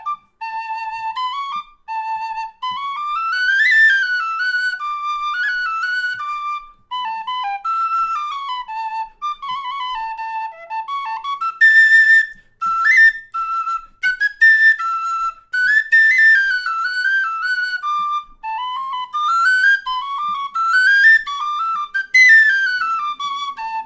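A Thornton V6 high D tin whistle plays a lively March in D, its bright melody running in quick stepwise phrases with ornamented grace notes, close and clear with no voices.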